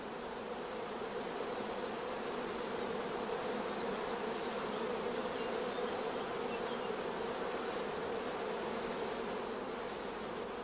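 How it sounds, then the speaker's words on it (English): Honey bees crowd thickly over a queen-rearing frame, a dense, continuous buzzing hum that stays steady and close throughout with no voices. "Bees crowding thickly around the cells is a first positive sign of good acceptance."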